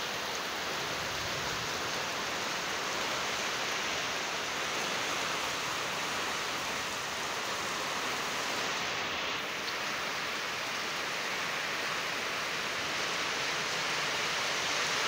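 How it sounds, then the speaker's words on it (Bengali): Heavy rain pours down steadily, a dense, unbroken hiss that stays loud and even throughout with no other sounds standing out. "মোটামুটি ভালো বৃষ্টি হচ্ছে।"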